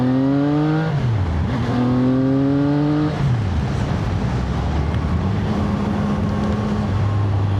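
A 2026 CF Moto 675 SR-R motorcycle engine climbing uphill near 50 mph, loud and close, its pitch rising steadily and dropping twice at gear changes, with constant wind rush throughout.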